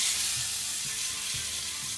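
A salmon fillet sizzles steadily in a frying pan as it is turned, a close, even hiss with a few soft low thumps of the pan and spatula, no voices.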